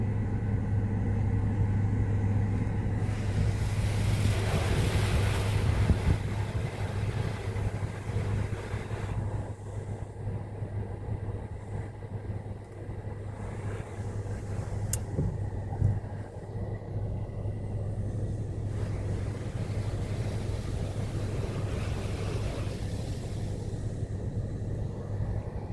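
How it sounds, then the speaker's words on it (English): Inside an automatic car wash, pre-fill cleaning product is applied to a vehicle with a loud, continuous rushing spray and a droning machine hum, the spray swelling and easing over time. "A pre-fill cleaning product is now being applied to your vehicle."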